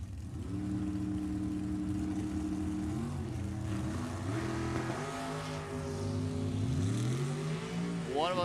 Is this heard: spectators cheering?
no